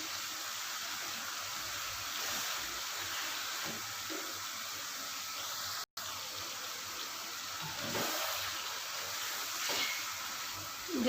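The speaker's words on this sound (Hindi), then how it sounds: "अब मैं इसमें डालती हूँ 1 चम्मच लहसुन और अदरक का पेस्ट। इसको अच्छी तरह मिलाते हैं।" Garlic and ginger paste sizzles in a pan of chicken do pyaza while being stirred, giving a steady close hiss with soft scraping, one brief dropout midway, and no voices.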